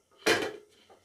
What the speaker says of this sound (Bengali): এখন আমি ঢাকনাটা খুলে দেখব কিরকম হয়েছে।